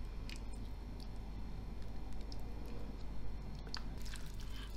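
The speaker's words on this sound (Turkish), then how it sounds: "Ve nar ekşisi." Pomegranate molasses goes into a green olive salad made from brined olives, a few soft wet squishes and drips standing out over a quiet, steady room background, with no talking.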